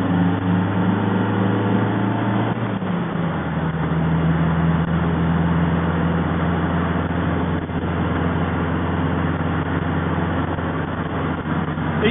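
An MGB GT sports car engine accelerating on the road, its steady drone shifting down in pitch after a gear change and then holding a constant loud hum.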